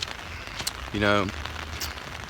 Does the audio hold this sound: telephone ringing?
no